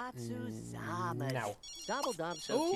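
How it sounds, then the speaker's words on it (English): A phone rings inside The Sims 3 life-simulation game, its ringtone tones overlapping with a man's steady speech for a few seconds. "That's a phone. Answer the phone,"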